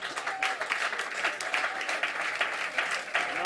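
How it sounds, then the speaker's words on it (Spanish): An audience at a jazz recording session applauds a guest flamenco singer, giving loud, continuous clapping close up for the whole stretch, with no voices heard over it. "un fuerte aplauso"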